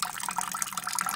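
Water runs in a continuous gush into a brew kettle being filled for a Tex-Mex pilsner, a close, steady splashing and bubbling with no pauses.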